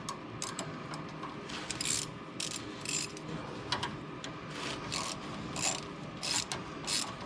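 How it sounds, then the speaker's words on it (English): A ratchet tightens a hose clamp over a FiberFix exhaust patch, making repeated bursts of close, quick clicking strokes at a steady rhythm over a low mechanical background, with no talking. "I'm going to clamp it down for right now with just a hose clamp"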